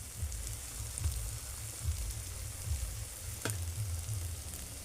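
Fried spices in a pan for egg pepper fry hiss with a steady, close sizzle as water is added, with a brief sharp crackle partway through.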